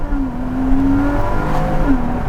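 A Porsche Cayman S 981 engine revving, loud and close, with a rising and falling tonal whine sustained across the clip over a deep rumble, no talk.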